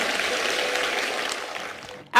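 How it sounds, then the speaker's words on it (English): A room of students gives a classmate a round of applause for his courage, a thick, continuous crackle of many hands clapping at an even level that cuts off abruptly at the end. "Give his heart a huge round of applause."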